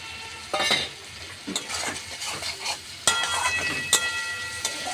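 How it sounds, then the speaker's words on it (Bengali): Chopped capsicum dropped into cooking tomatoes for paneer curry, with bursts of sizzling as pieces hit the pan, then stirring scrapes and a few clinks of a spoon against the pan, loud and close with no speech. "এবার এর মধ্যে আমি দেব ক্যাপসিকাম কুচি।"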